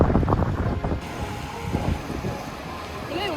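A boat bumping through waves on open water, with loud wind buffeting the microphone and splashing hull noise throughout, voices briefly shouting over it.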